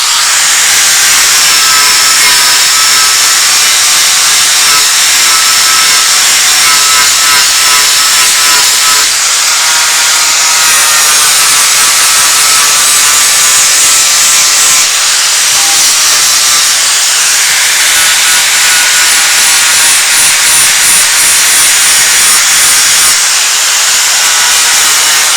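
A power tool grinds continuously with a loud, bright hiss as it blends and smooths fabricated metal on a handle area, steady and close throughout with no talk.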